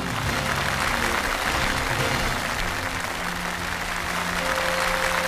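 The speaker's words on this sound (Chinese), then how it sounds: "让我们掌声有请" Sustained audience applause fills a pageant award ceremony, the fifth-place winner of the World Model contest final being honored; dense steady clapping from a large crowd, with some tonal music or hum beneath it throughout.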